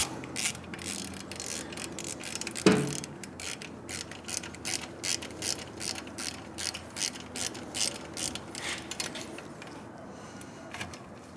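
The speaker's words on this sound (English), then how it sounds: "Using our 10mm socket." A 10mm socket ratchet clicks in a quick repeated rhythm, close and fairly quiet, while tightening the slip-on exhaust clamp on a Triumph Speed Twin 1200 motorcycle, with one louder knock early on.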